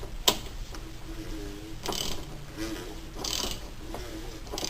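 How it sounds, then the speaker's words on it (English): A wrench ratchets on the oil filter housing of a BMW M54 engine, giving a few separate clicking bursts spaced a couple of seconds apart, close and moderately loud over faint background noise. "then you got to put the wrench on it"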